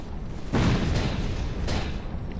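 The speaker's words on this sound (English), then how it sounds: "I'm pretty sure you heard that explosion there" An explosion in the Dark Souls II video game, a loud low boom that swells suddenly and rumbles on under lingering noise, with a second softer burst later.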